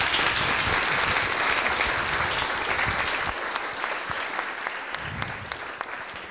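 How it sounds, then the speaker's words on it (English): Steady applause from an audience after a talk at a tech meetup, dense clapping throughout that thins slightly toward the end, with no talking over it. "Can we give her another round of applause?"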